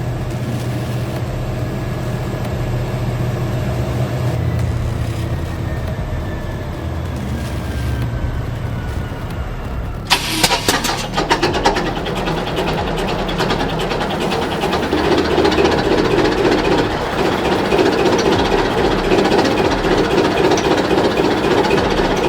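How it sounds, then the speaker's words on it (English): A large CAT 1000-kilowatt diesel generator engine runs under load with a loud, continuous heavy rumble and steady hum, and a sharp burst of broadband noise about halfway through after which the roar grows denser and harsher. "The engine roars with power, a steady stream of electricity flows out"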